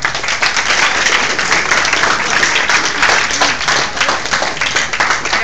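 A crowd applauds steadily, dense clapping filling the whole stretch at an even, loud level.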